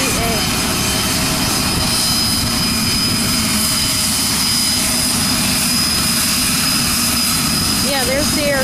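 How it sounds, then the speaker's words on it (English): An aircraft engine runs at Aurora Municipal Airport, making a loud, continuous roar with a steady high whine, heard close throughout while people talk over it. "Yeah, there's the aircraft."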